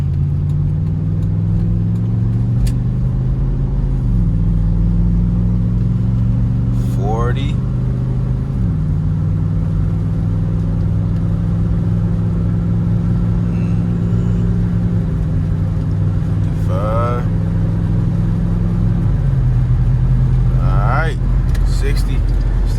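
Lincoln car, bought cheaply at auction, driving on the road with steady engine drone and several gear-shift steps as it accelerates, close and continuous throughout, with faint chirps over the engine.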